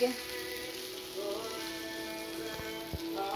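Beaten egg poured into a hot pan of leftover rice for Filipino-style chaofan sizzles with a steady, rain-like crackle of frying, moderately close, with a couple of faint utensil taps and no talking.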